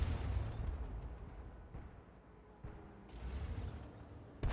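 Tank cannon shots and shell explosions in World of Tanks, including a Polish 110 tank: deep booming blasts and low rumbling impacts, loud at the start and again near the end, with no voices over them.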